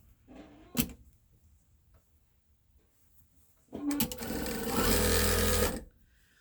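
A sewing machine stitches blue checkered gingham strips for a sailboat baby quilt, first with a short burst, then a longer steady whir of about two seconds, close and loud with no talking.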